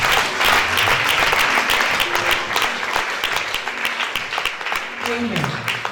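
A church congregation applauds and cheers in praise, loud sustained clapping filling the room, with voices shouting over it throughout.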